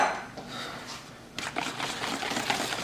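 Wire whisk beating dry ingredients into wet batter for a grape jelly filled pound cake, a close, quick, rhythmic scraping and tapping against a bowl that grows busier and louder partway through.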